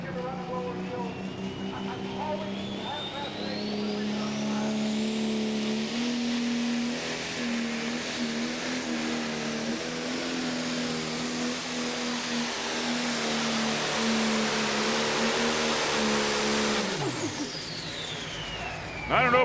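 A pro stock pulling tractor roars through a pull in Henry, its engine building to a sustained loud howl with a rising whine before cutting off sharply near the end.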